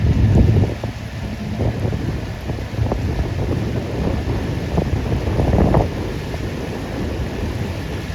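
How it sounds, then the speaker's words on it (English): A jet boat passes on a river near a glen, its engine a steady low rumble mixed with rushing water and wind buffeting, holding level for several seconds with a slight swell midway. "Oh, there goes a jet boat."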